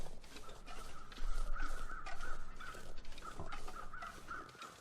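Crows caw repeatedly in The Long Dark, a series of harsh rhythmic calls in two bursts over a windy, noisy outdoor ambience, fairly close and clear with no speech.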